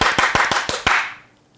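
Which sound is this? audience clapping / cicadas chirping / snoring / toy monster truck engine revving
audience clapping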